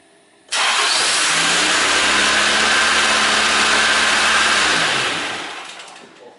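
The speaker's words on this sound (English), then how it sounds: "I go to start this my car" A car engine cranks and fires up, then settles into a loud, steady idle that runs for several seconds before fading slightly toward the end, heard close with no talking.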